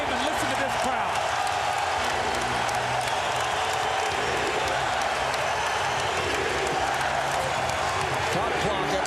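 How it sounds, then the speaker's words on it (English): Roaring arena crowd at the 2001 NBA Finals, Game 3 between the Sixers and Lakers, a loud sustained wash of cheering and noise that fills the whole clip without letup. "listen to this crowd"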